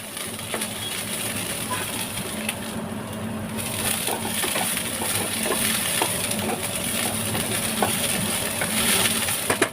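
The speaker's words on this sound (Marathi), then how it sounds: "त्यामध्ये आलं लसूण कांदा आणि खोबऱ्याचं भाजक वाटण करत आहे" Ginger, garlic, onion and coconut roast in a pan for a Mangalore chicken curry, giving a steady close sizzle with scattered dry crackles, clicks and scraping stirs throughout.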